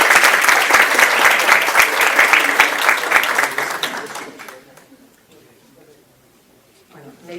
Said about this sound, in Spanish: Así que un especial aplauso para esa labor.